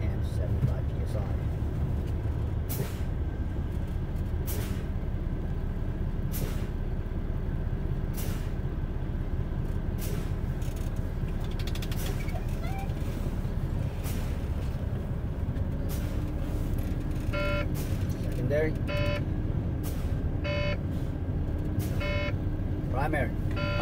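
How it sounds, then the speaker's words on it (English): A truck's low-air-pressure warning tone sounds during an air brake test: repeated short electronic beeps come in the latter half over a steady idling engine rumble, punctuated earlier by sharp bursts of air hiss. "make sure my low air warning light and or tone comes on between 55 and 75 PSI"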